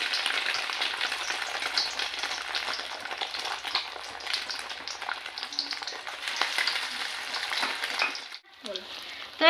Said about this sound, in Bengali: লো ফ্লেমে ভাজতে হবে